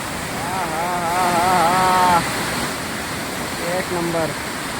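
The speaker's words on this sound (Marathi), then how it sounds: "मला तर खूप आवडला हा धबधबा खूप आवडला मला" The tall, year-round Domzira waterfall in Jawhar gives a constant, full roar of falling water, while a person talks over it close by.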